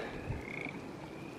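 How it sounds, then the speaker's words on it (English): Boreal toads or frogs croak at a mountain lake in Utah's High Uintas wilderness, a faint, steady chorus of rolling calls heard from a distance in the quiet outdoors. "can you hear the frogs? Boreal toads?"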